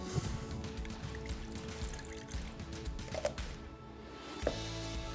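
Lemon juice pours into a bowl of garlic sauce in a kitchen, a steady liquid stream with small splashes and drips over faint background clatter, no voices.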